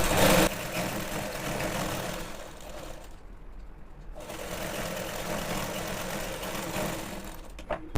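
A sewing machine runs steadily while stitching a pant seam, a dense mechanical whir that pauses for about a second midway, then resumes at the same close, even pace.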